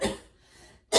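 A single close cough bursts out at the start, followed by a quiet breathy pause and a second cough at the very end.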